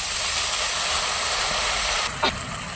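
Water hits a pan of frying mustard paste and onions with a loud, steady hiss that cuts off abruptly, followed by a short bubbling sizzle.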